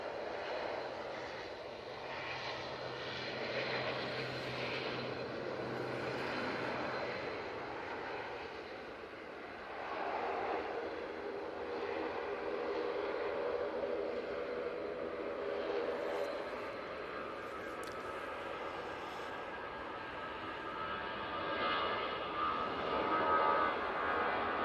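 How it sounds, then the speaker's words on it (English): A Logan Air Embraer ERJ 145 landing at Manchester Airport makes a distant, sustained jet roar that swells and fades over about twenty-five seconds, growing slightly louder toward the end. "Logan Air, Embraer ERJ 145,"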